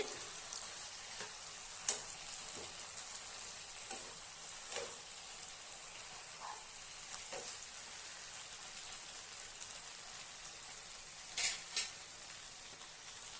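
Ingredients sauté in a pan with a faint, steady rain-like sizzle, broken by a few sparse clicks from stirring.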